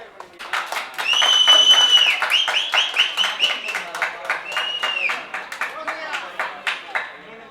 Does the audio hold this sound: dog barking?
no